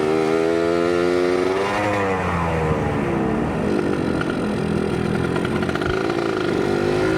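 A Suzuki Satria Hiu two-stroke motorcycle in stock tune accelerates hard, its raspy engine note climbing and shifting pitch through the revs, loud and close throughout with no talking.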